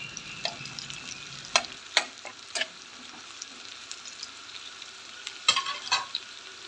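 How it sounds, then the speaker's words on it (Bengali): Chopped onion and whole green chilies frying in oil, a soft close sizzle punctuated by several sharp spatula scrapes and knocks against the pan, irregular bursts of stirring with quiet gaps and no voices. "এখন আমি এই তেলের মধ্যে সামান্য পেঁয়াজ কুচি আর কয়েকটা কাঁচামরিচ, আস্ত কাঁচামরিচ ফ্রাই করে নিব"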